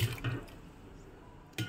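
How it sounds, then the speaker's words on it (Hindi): About two glasses of water are poured into a pot of fried masala for aloo kofta, a steady close splashing pour at moderate level with a brief burst at the end. "अभी क्या करेंगे हम इसमें डाल देंगे पानी, 2 गिलास के करीब इसमें डालेंगे हम पानी।"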